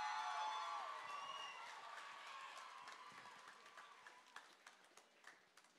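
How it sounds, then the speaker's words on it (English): Applause and some whooping cheers from the audience at a school battle of the bands at Howick College start loud, then thin out to scattered individual claps as they fade. "can we please get one last round of applause for Minerva and all our performances for the night?"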